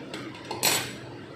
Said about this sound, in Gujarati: અત્યારે મિશ્રણ ગરમ હોય છે એટલે ચમચા વડે હલાવવું